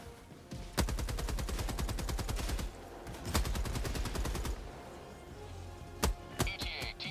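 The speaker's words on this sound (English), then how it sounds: "They're shooting from the trees." Enemy gunfire in Helldivers 2: rapid machine-gun bursts and single sharp shots ring out steadily over a constant battle rumble, loud and close, with a few louder cracks near the end.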